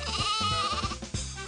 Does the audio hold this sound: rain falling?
no